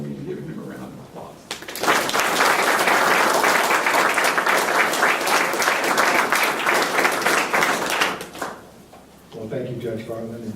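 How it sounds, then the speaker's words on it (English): An audience welcomes a speaker to an evening lecture with loud, sustained applause. The clapping rises quickly, holds for about six seconds, then fades out. "please join me in giving him a round of applause"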